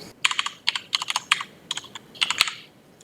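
Typing on a computer keyboard to enter a firewall command, a close run of crisp key clicks in quick uneven bursts with short pauses, no voices.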